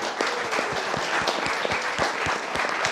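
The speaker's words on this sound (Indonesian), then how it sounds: "Tepuk tangan buat Pak Presiden." A crowd applauds for the President at a heated debate, with a dense, loud patter of many hands clapping and a few distinct nearby claps standing out over the steady roar.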